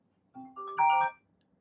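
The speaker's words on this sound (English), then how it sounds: "Sorry, that's just my phone going off." A mobile phone ringtone goes off indoors, a short rising electronic melody in three stepped notes lasting about a second, clear and fairly loud against a quiet room with no talking.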